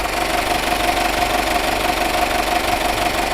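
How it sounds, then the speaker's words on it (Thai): A steady, low diesel engine idle from a used Honda CR-V 4WD, even and continuous, with a faint mechanical hum and light knocking texture throughout. "ครับเสียงดีมากนะครับ เครื่องยนต์ดีเซลขนาดแท้นะครับ"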